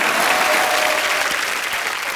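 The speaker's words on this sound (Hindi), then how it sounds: "वो आलिया के लिए ताली बजा दो" Studio audience at a Hindi comedy show claps in a dense, steady burst of applause that fills the whole moment without a break.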